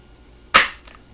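A single sharp, loud crack from an Umarex Walther PPQ air pistol, a brief snap that fades quickly, with a faint click shortly after.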